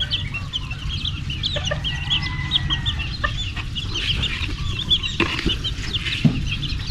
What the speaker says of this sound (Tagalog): Ayan po yung mamahalin nating manok.